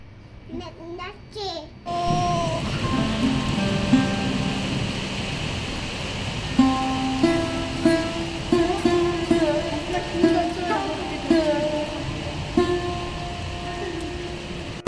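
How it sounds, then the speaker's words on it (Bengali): Rain falls on an open rooftop during the first shower of the year in Bangalore, a continuous hiss that begins abruptly and runs under frequent children's voices and nearby chatter. "বৃষ্টিটা শুরু হতেই আমি একদম দৌড়ে চলে গেছি ছাদে একটুখানি ভিজবো বলে"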